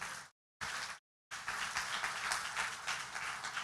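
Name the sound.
church congregation applauding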